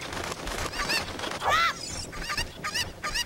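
Cuckoo chickens in The Legend of Zelda: Ocarina of Time squawk and cluck repeatedly in short honking bursts, with the loudest cry in the middle, over steady game background sound.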